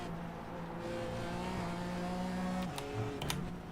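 Race car engine in the iRacing sim while overheating, a steady loud droning roar with pitch shifts as gears change, plus a few sharp clicks near the end.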